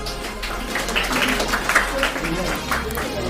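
Applause from an audience at a school prize distribution ceremony, a steady wash of clapping filling the hall for a few seconds with crowd murmur underneath.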